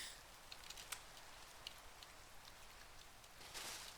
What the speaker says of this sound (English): the rain is not helping here